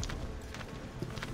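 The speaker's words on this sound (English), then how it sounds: "I'm tired of running on horses." Horse hooves clip-clop in a quick galloping rhythm in Assassin's Creed 3, a steady run of close, fairly quiet thuds over a continuous game background with no voice.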